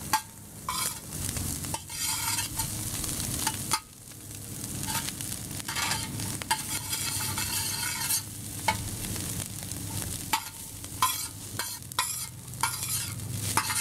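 Cauliflower fried rice is stir-fried in a hot pan, sizzling loudly and continuously while the spatula scrapes and tosses in repeated bursts, with no voices.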